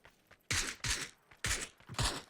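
Four sharp bursts of video-game gunfire in PUBG, loud and close, in a clipped uneven rhythm with brief gaps between the shots.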